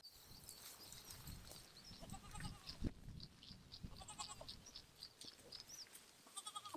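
Several sheep bleat repeatedly nearby, overlapping cries with rustling and shuffling in the background, fairly close but not loud.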